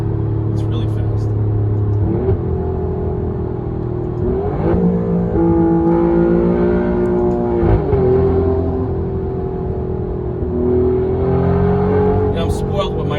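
A 2021 Alfa Romeo Giulia QV fitted with an X-pipe exhaust accelerates hard, loud close engine tone climbing through repeated gear pulls with brief dips between shifts, a voice briefly heard over it.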